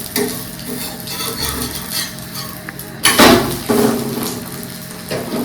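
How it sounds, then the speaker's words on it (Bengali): An egg frying in a pan in a home kitchen, with a steady sizzle throughout and louder bursts of spattering and utensil scraping near the middle and later on. "এখানে তোমার জন্য একটা ডিম ভাজছি"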